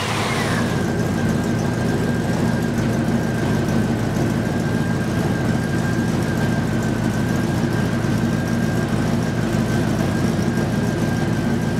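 A 1955 Ford F100 pickup engine runs at a steady idle, a continuous low rumble with a thin whine held through the whole stretch, no voices over it.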